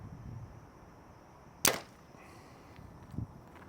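One crisp release of a Mathews Lift compound bow, a sharp loud crack with quick decay in a quiet outdoor setting, followed by a faint distant tap about a second and a half later.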